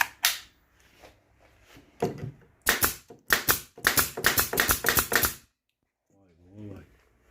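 A Hais pneumatic nail gun fires nails in rapid sharp bursts, a few single shots and then a fast series of cracks at close range, with a short voice near the end.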